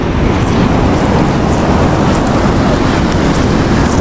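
Monsoon waves roll onto a beach with strong wind, a loud continuous roar of surf and gusts without pause.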